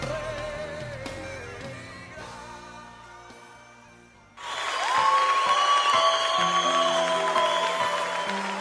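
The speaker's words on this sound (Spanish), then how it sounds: "Dale un fuerte aplauso" A congregation applauding at a Christian worship service, a dense, loud burst of clapping that swells in halfway through over ongoing music.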